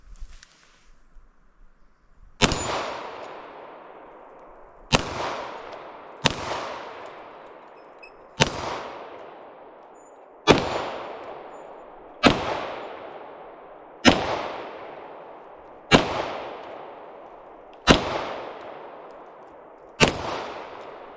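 A 10mm Delta Elite pistol firing from a Fusion XL custom magazine gives nine sharp, loud outdoor gunshots spaced about two seconds apart, each trailing a short echo, with no talk.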